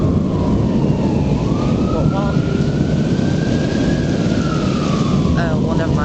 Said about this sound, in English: And if you can hear the sirens, somebody's in trouble.